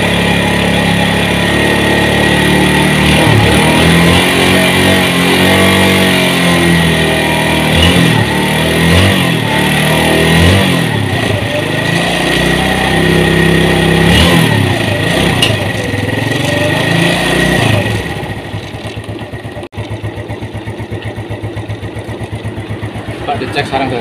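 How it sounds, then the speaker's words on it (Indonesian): A motorcycle engine fires up and runs at a steady idle with a chugging mid-pitched rumble, then drops to a quieter, rougher idle near the end, close by while someone talks over it. "Sepeda motor nyala,"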